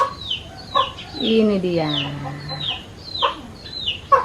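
Village chickens cluck and cackle close by, with repeated short calls and a longer drawn-out squawk in the middle. A person speaks briefly among the birds.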